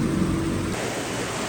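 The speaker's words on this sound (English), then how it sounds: "This is like the most rain I've ever seen in my life." Heavy rain pours down in Oaxaca, Mexico, a dense, steady roar of water that fills the whole short stretch loudly, with no voices.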